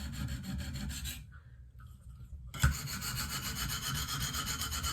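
A Benchmade Steep Country knife blade rasps steadily against a coarse KME sharpening stone in close, continuous rubbing strokes. The strokes pause briefly in the middle, then a knock is followed by more of the same sharpening.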